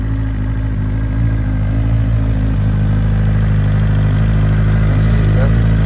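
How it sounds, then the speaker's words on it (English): A 2020 BMW S1000RR motorcycle idles after a cold start with its E85 fuel removed, a loud, steady low rumble running throughout. "that's a cold start idle after, you know, taking all the E85 out of the bike"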